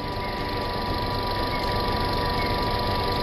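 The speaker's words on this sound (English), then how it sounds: "You can hear that the engine is now running." A Peugeot 307 engine idles after a thermostat replacement, giving a steady, even hum with a faint high whine, close and unchanging throughout.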